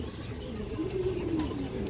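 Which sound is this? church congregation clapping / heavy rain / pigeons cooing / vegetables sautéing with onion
pigeons cooing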